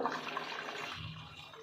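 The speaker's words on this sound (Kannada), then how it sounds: "ಈಗ ನಾನು ನೀರು ಎಷ್ಟು ಬೇಕೋ ಅಷ್ಟು ಹಾಕ್ಕೊತಾ ಇದ್ದೀನಿ" Water is poured into ground sesame paste in a kitchen, producing a soft, continuous trickling and splashing that stays faint and steady throughout.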